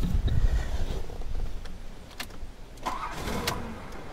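A 1989 Buick Reatta with electrical faults and a bypassed ground is cranked, giving a loud low rumble at first that settles into a brief, uneven engine run before quieting.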